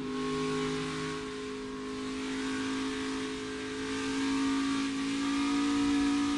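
NASCAR Xfinity race car engine heard from inside the cockpit during a race: a loud, steady engine drone with strong sustained harmonics, swelling and easing slightly as it holds high revs.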